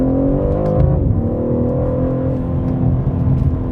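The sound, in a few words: BMW M3 Competition exhaust in Sport Plus mode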